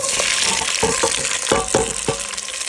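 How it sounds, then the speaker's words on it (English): Chopped tomatoes, yellow onion and green onion sizzle in hot beef tallow in a pan, a loud continuous frying hiss broken by several sharp scraping stirs. "got beef tallow, and we're just gonna sweat those down"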